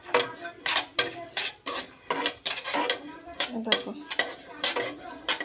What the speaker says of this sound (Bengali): এই দেখো সুজিটা আমি ভাজছি।